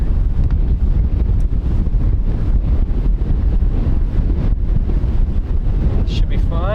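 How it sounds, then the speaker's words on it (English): Wind gusting across an open golf course, buffeting the microphone in a steady loud rumble that persists throughout, with a brief bird-like chirp near the end. "It's windy today."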